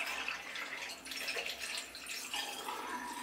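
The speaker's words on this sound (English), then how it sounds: "I'm going to start pouring in my chemical now." Film developing chemical pours steadily into a developing tank, a continuous splashing, trickling wash of sound that stays fairly even throughout.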